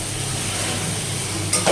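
Potatoes sauté with onion and spices in a pan, a continuous close sizzle with a faint low hum and a short scrape of stirring at the end, with no voices.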